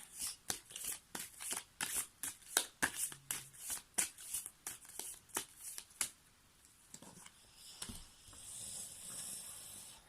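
A deck of cards shuffled for a card reading: a quick run of crisp riffling bursts at a steady rhythm, close and loud, then softer, looser shuffling toward the end, with no voices.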